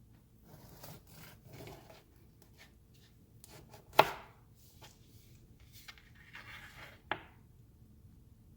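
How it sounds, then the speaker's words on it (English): A knife cuts into a cooled, freshly baked keto loaf, with soft rasping strokes through the crumb and two sharp, distinct cuts standing out against a quiet background. "Now it's time to cut her open."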